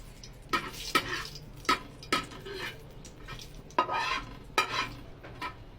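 Spices stirred and fried in a pan, with a spoon scraping in sharp, repeated strokes about every half second over a steady low sizzle, close and fairly quiet.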